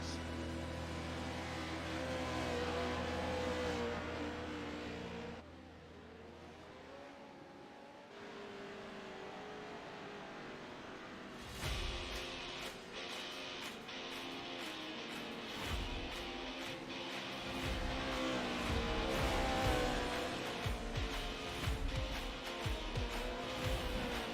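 Racing trucks in the iRacing sim, the jumpy Pro Lights class running a heat, engines droning and revving steadily with a brief lull before the pack surges back loud and busy, no talk over it.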